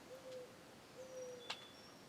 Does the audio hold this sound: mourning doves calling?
yes